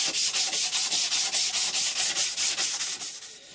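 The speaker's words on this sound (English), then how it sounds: "So now we're going to use some 60 grit just to flatten it all off" Rhythmic back-and-forth sanding strokes with 60 grit sandpaper, flattening paint off a surface and working into corners, about a dozen steady rasping passes, close and loud, easing off at the end.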